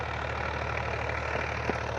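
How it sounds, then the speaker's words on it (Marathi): A tractor engine runs steadily during chickpea sowing in a field, a low, even idling drone with a faint knocking rhythm, close and continuous for the short stretch with no voices. "हे आमचे पवन सरकटे त्यांचं ट्रॅक्टर आहे"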